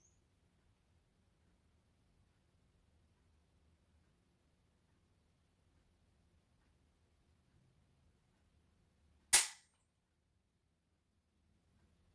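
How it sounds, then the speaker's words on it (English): A single sharp dry-fire click from a Mossberg 500 shotgun trigger, one crisp snap near the end of an otherwise nearly silent stretch. "And this is where you get the actual trigger pull."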